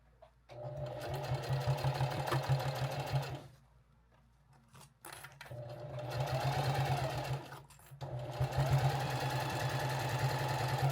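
Sewing machine stitching the sides of a pencil case, a fast steady mechanical whir and chatter in three runs separated by short pauses, close and clear.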